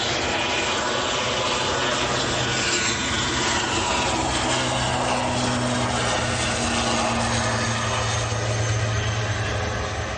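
Heavy jet at Manchester airport, a loud continuous engine roar with a broad rumble and whine that holds steady throughout.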